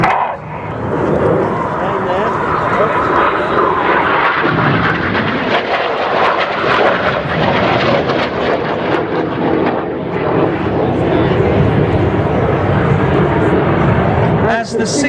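RAF Red Arrows jets roar through an air show display at Welshpool, a loud sustained engine rush under a commentator's voice, with a dog barking in the crowd.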